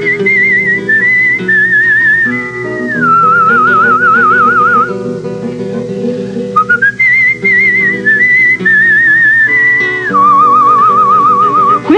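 A classical whistler performs a melodic line, loud and close, with sustained pitched notes and fast vibrato trills rising and falling in phrases, alone without talk.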